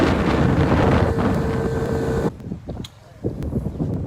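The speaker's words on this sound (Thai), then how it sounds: "ตอนนี้เรากำลังขับ เรือนะครับย้อนขึ้นไปนะครับ ทวนกระแสน้ำขึ้นไป" Loud motorboat engine roar mixed with wind buffeting as the boat drives upstream against the current on a river in Kanchanaburi, Thailand, running steadily for about two seconds before cutting to quieter rumbles and thumps.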